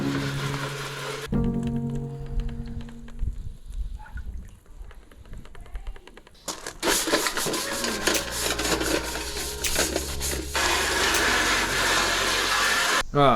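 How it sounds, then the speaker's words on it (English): Dirty plastic trim pieces from a Mitsubishi Lancer Evolution 9 being scrubbed clean outdoors, with uneven rubbing and rasping strokes that grow to a dense, steady scrubbing with water noise, close and fairly loud. "I'm going to take these outside and give it a clean off"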